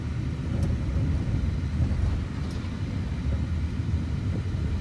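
A car drives along a road in Nigeria, heard from inside as a steady, even low rumble of engine and tyres with no pauses or voices.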